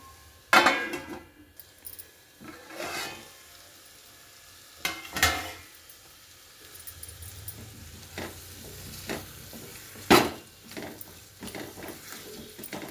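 Small sambar onions soften in a pan for a curry, giving a low sizzle broken by bursts of spoon stirring and metallic clinks against the pan, close and irregular.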